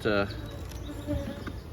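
Honeybees buzz at an overwintered hive that has swarmed, leaving few bees behind; a close, short burst of droning wings rises and fades, followed by softer scattered buzzing.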